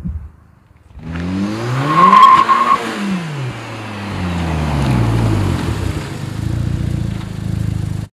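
A tuned Golf 5 GTI Edition 30 drives past outdoors, its engine note rising and falling as it approaches, revs hard up close, then trails off into a rougher rumble.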